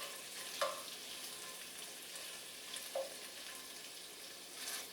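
Hot dogs fry in a pan, a steady close sizzle and crackle with a couple of brief pops and scrapes, heard alone without talking.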